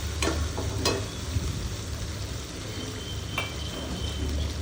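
Onions and green chillies frying in oil, a soft continuous sizzle with a few sharp clinks and scrapes from stirring in the pan, close and moderately quiet.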